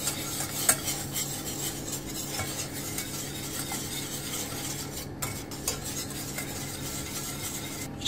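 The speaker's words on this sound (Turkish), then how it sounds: "Şimdi güzelce karıştırıyoruz." A spoon stirs cream into a sauce in a pot for giant turkey legs in cheese sauce, making a steady wet swishing with light scrapes and a few soft knocks against the pot.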